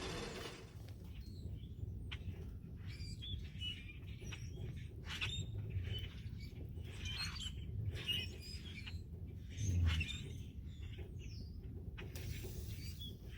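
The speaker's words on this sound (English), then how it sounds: "Those birds are funny to listen to." Birds chirp in snowy February woods beside a winter tipi camp, with many small, quick calls scattered throughout over a steady low background rumble.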